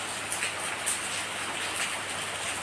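A light drizzle of rain patters softly and evenly, a continuous fine hiss of drops with a few slightly sharper taps, no voices.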